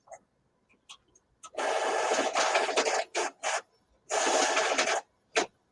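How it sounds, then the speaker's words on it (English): A printer runs in bursts of loud mechanical whirring and scraping, pausing briefly between passes, with small clicks before and after, close and with no talk. "That doesn't even sound good. It's just a printer."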